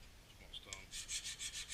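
A small sharpening stone rubs across filed metal, a few light scrapes followed by a run of brisk, rhythmic strokes that grow louder toward the end, close and quiet with no talking.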